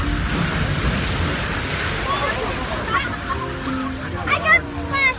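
Water splashes and sloshes around a log on the Splash Mountain flume ride, a rushing wash of spray, with excited voices near the end.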